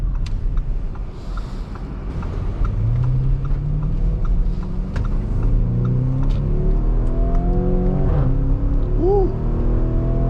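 Twin-turbo V8 of a Lamborghini Urus with Rosso interior pulling hard in Strada mode, a loud, close engine note rising steadily through the gears with shifts and a strong continuous roar.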